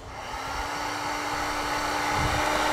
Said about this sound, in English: Now we'll use our heat gun to shrink down our butt connectors.